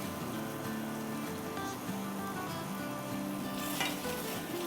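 Red chilli powder, garam masala and salt sizzle in a pan for butter prawn karahi, giving a continuous close crackling fry with faint stirring scrapes.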